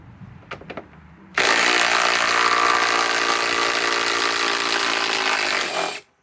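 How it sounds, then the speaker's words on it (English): A Metabo HPT Triple Hammer Bolt impact driver on a multi-volt 5 Ah battery, straining on a large lag bolt, roars into a loud, steady hammering buzz for several seconds, then cuts off abruptly after a few faint clicks beforehand. "And this is kind of pushing a little impact driver with this big of a lag."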